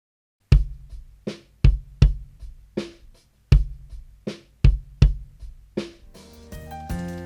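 Live-recorded kick drum track with EQ engaged and no gate, a series of punchy, tighter thumps in a steady pattern, followed by a short tonal musical tail near the end.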